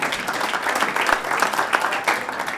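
An audience applauds at a comedy magic show, a lively burst of many hands clapping with rhythmic swells and a bit of crowd noise, fairly close and loud.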